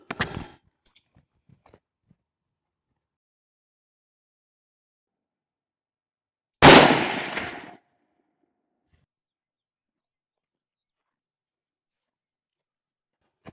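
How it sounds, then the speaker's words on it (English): Two sharp rifle shots ring out while a rifle is being sighted in outdoors, one at the start and one near the middle, each a loud crack with a brief decaying tail, separated by silence. "Now, we're going to shoot a couple of rounds and see where we're at."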